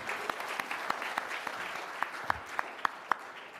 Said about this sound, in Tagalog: Palakpakan po natin ang ating grade 4 charity class charity.